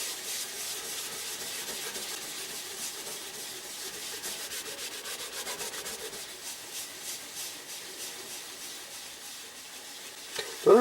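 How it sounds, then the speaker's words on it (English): Fine abrasive rubbed over dull, corroded plated metal on a 1949 Hallicrafters T-54 radio, a steady close-up scratchy rubbing texture with fast repetitive strokes, ending in a couple of small knocks. "fine abrasive is what it requires, so here we go"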